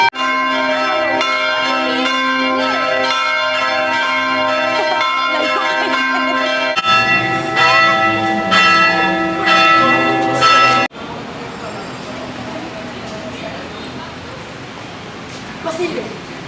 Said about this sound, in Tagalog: ikaw ang minumultahan ko ng kalahati dahil sa maling pagpapatunog ng kampana